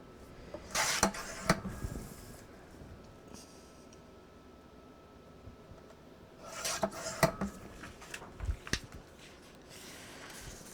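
Paper strips for a scrapbook album are trimmed into 4-inch pieces, giving two soft rasping slides close by, separated by a long quiet gap with faint handling noise.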